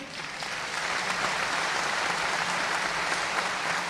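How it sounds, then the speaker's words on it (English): Large audience at a speech event applauds steadily throughout, a dense, even wash of clapping at moderate level with no talk. "I want to invite all of you to give a round of applause for Mr. Gurumurthy"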